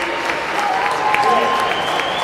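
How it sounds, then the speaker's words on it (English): Cougar fans at a men's college basketball game applaud from the stands in a steady round of clapping, with an announcer's voice and other voices carrying over it throughout. "As the Cougar fans show their appreciation with a round of applause"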